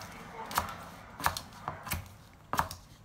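Knife chopping Chinese kale on a cutting board gives four separate sharp, close knocks at an uneven, unhurried pace with no talking.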